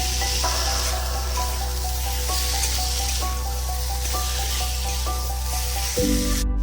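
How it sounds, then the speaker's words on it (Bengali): Ground cumin paste, stone-ground on a grinding slab, sizzles and fries steadily in a pan for a fish and potato curry, a continuous close hiss with faint stirring scrapes and a thud near the end. "এবার এর মধ্যে বাটা জিরেটা দিয়ে দেবো শিলে বেটে নিয়েছি দিয়ে একটু নাড়িয়ে নেব"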